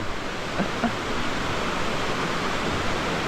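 A waterfall on a sunny day roars as a loud, steady, unbroken rush of water that fills the whole stretch with constant noise and no pauses.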